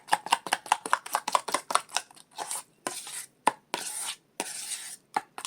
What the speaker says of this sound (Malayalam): ഓക്കെ, അലോവേറ ജെല്ലും കൂടെ ഒന്ന് മിക്സ് ചെയ്യുവാണേ